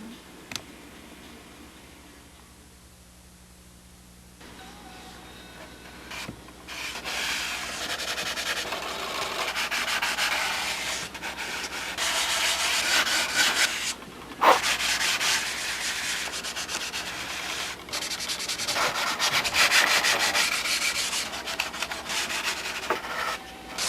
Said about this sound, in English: That'll dry in 2 seconds and I can sand it out.